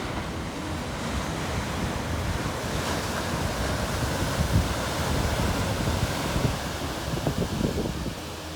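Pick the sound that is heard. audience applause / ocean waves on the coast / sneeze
ocean waves on the coast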